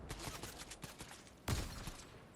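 Long-distance sniper gunfire in Fortnite cracks out as a string of sharp shots at an uneven pace, the loudest single report landing midway and standing out above quieter distant pops.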